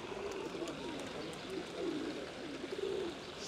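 Doves coo repeatedly among the bustle of a busy outdoor medieval market in Benidorm, their soft calls rising over a steady crowd murmur.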